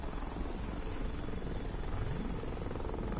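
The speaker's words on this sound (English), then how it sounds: "do you see a helicopter above me?" A helicopter flies overhead in a shooter video game, its steady, loud rotor thrum and engine drone filling the scene without a break.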